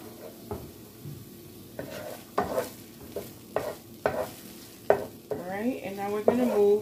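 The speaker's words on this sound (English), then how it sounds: "we've got our onions and our green pepper going" Onions and green pepper fry in a pan for beef fried rice, with repeated stirring scrapes and clatters cutting through a steady sizzle and no talking.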